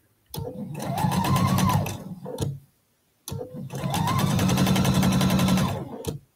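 Sewing machine stitching a quilt block, two loud, close bursts of rapid mechanical stitching, each about two seconds long, separated by a short pause.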